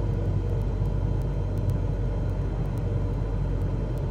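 In Microsoft Flight Simulator 2020, an airplane descends gently onto the runway with full flaps on an IFR approach, giving a steady low engine and wind rumble throughout with faint periodic ticks and no talk.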